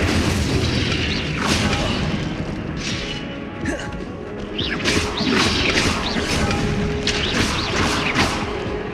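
Fiery spell blasts in a Hogwarts Legacy battle, loud booming bursts and crackling whooshes repeating every second or so over a dense, continuous combat din.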